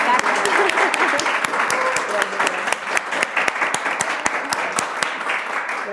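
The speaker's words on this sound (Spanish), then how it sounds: "Les pido un aplauso fuertísimo para esta belleza de humana." A studio audience applauds steadily, many hands clapping close and full, gradually thinning toward the end, with a voice faintly mixed in.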